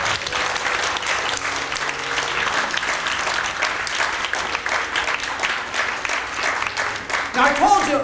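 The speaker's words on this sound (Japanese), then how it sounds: "Give the Lord a clap offering." A church congregation applauds steadily and loudly throughout, a dense wash of clapping with no pauses.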